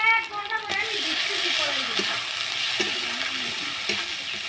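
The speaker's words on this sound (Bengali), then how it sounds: "এখন মশলাটা দিয়ে নেড়ে চেড়ে ভালো করে কষিয়ে নেব" Spices with turmeric and salt stirred and fried in a pan for prawn biryani: steady sizzling with periodic scraping strokes of the spoon, close up, while background music plays throughout.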